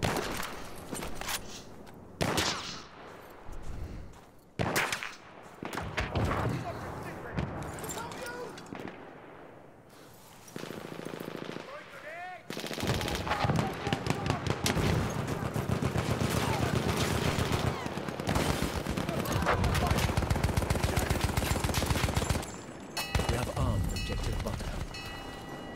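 Rapid, loud gunfire and explosions from the Battlefield 1 open beta on Xbox One, with bursts of automatic fire and blasts nearly continuous throughout, under occasional voices.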